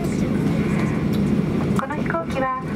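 Inside a JAL airliner, a JA313J, just landed at Oita Airport, the engine roar and rumble of the cabin fill the air as the plane taxis, with a cabin announcement spoken over the noise near the end.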